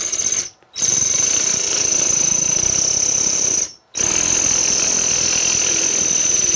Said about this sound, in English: that's going to have to get drilled out of there